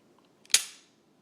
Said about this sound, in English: I'm going to pull the trigger.